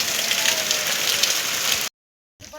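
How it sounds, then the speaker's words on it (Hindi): Rain falling steadily in a mountain village in the hills, a dense close hiss of drops on surfaces for about two seconds before cutting out, no voices. "वैसे ही बारिश होने लग गई यहाँ पे"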